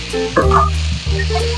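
Garlic and onion sauté in a pan ahead of the tomato, giving a brief close sizzle with a couple of stirring scrapes, all of it heard over a steady tonal background hum.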